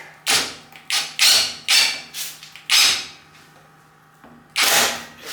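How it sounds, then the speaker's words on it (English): Repeated ratcheting clicks and thumps from a socket wrench tightening bolts on a vintage Shopmaster jointer, coming in short bursts with brief pauses, close and fairly loud. "you can hear the socket click when I do that"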